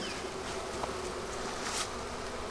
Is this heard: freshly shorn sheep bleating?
no